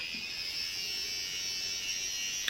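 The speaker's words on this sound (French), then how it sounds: "c'est un appareil électrique pour en fait enlever les petits duvets qu'on a" A small electric facial hair remover for fine down on the face hums steadily and close, a constant high buzz with no voices over it.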